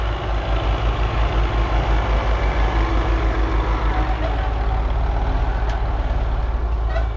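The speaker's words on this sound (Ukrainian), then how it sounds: "Зараз інший трактор починає сіяти." A heavy diesel tractor engine runs steadily at idle during soybean sowing, its low rhythmic chugging close and constant, with a faint hiss in the background.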